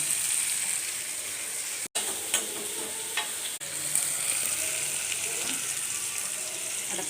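Tomatoes sauté in a pan for sambar, producing a steady bright sizzle and crackle with scraping stirs throughout, broken by two very brief dropouts.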